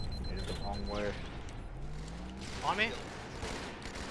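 Gunfire rings out in a Halo 2 team King of the Hill multiplayer match as a dense, steady barrage of shots and rumbling blasts, with players talking over it.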